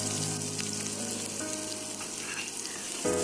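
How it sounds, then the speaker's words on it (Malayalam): Small onions fry in about two teaspoons of oil in a pan, giving a steady, close, dense sizzle with light stirring throughout. "ഒരു പാൻ വെച്ച് അതിലോട്ട് 2 ടീസ്പൂൺ എണ്ണ ഒഴിച്ച് ചെറിയ ഉള്ളി അതിലോട്ട് ഒരു അരക്കപ്പ് വരുന്ന പോലെ ചെറിയ ഉള്ളി ഇട്ട് ഒന്ന് തൂമിച്ചെടുക്കാം."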